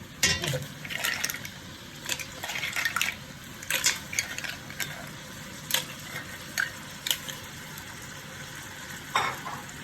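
Crab, shrimp, fish fillet, lobster and mussels stir-fried together in a pan, giving a steady sizzle with scraping stirs and clattering utensil hits through the clip, close and fairly loud, with no talking.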